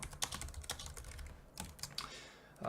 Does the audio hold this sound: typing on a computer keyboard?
yes